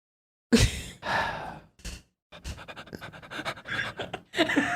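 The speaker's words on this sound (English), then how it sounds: "Don't breathe into the microphone." Heavy, panting breaths blow close into a microphone in irregular bursts, rough and airy, with short silent gaps between puffs.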